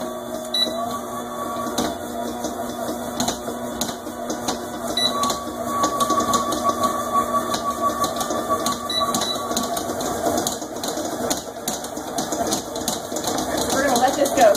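A stand mixer kneads walnut bread dough with a steady, continuous mechanical whir and rattle, holding at an even moderate level throughout with no voices.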